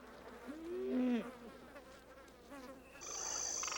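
Several mosquitoes buzz and whine faintly, with wavering pitched drones that rise and fall over low background noise, and a thinner high whine comes in near the end.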